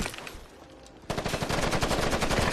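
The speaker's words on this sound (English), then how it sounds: "Taking fire!" Automatic gunfire crackles in Ghost Recon Advanced Warfighter, starting abruptly after a quieter lull and continuing as loud, rapid, sustained bursts of shots.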